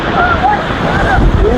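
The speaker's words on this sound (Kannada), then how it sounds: "ನೋಡಿ ಎಷ್ಟು ಗಾಳಿ ಬರ್ತಾ ಇದೆ" Strong wind on the hilltop at Himavad Gopalaswamy Betta near Gundlupet buffets a phone microphone in a loud, continuous roaring rush, with faint whistling tones drifting over the steady blast.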